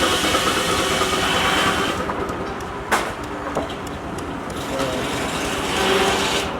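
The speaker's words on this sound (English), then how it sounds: "steam engines there to turn the saw blades and stuff." Big steam engines drive the saw blades of a mocked-up sawmill at a threshermen's park, giving a continuous loud mechanical roar and rumble broken by a sharp knock partway through.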